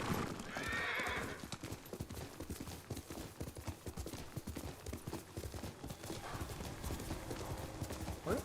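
A horse in the video game Ghost of Tsushima trots along with a brisk, steady clip-clop of hooves, close and clear, bracketed by short whinnies at the start and near the end.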